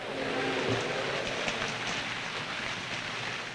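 Steady rain falls in a romantic film scene, a continuous wash of patter with faint background tones and no speech over it.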